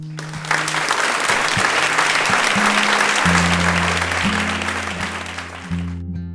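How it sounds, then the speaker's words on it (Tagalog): Sustained crowd applause at a school awards ceremony after a top student's name is announced, dense steady clapping filling the room for several seconds over a low background hum. "Agad naman nagpalakpakan ng crowd"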